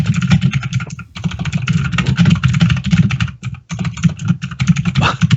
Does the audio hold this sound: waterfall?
no